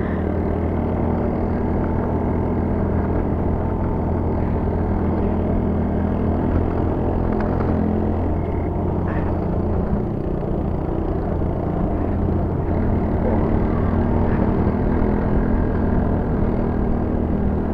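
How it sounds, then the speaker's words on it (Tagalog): Motorcycle engines, an XRM and an RS, droning steadily up the steep climb to Sagada, a loud constant rumble held through the whole stretch with no break. "Puro ugong makina eh."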